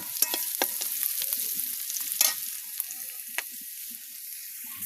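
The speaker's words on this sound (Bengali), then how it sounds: "কড়াইয়ে তেল দিয়ে পেঁয়াজ আর কাঁচামরিচ দিয়েছি এগুলোকে বাদামি কালার করে ভেজে নিব" Onions and green chilies sizzle and crackle in hot oil in a pan on a clay stove, with scattered pops and occasional stirring, no voices.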